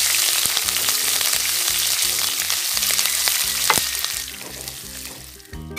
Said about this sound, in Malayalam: കടുക് പൊട്ടി കഴിഞ്ഞു നമുക്ക് ഇതിലേക്ക് നമ്മുടെ ഈ വേപ്പില, ഇഞ്ചി, പച്ചമുളക്, വെളുത്തുള്ളി ഇടൂ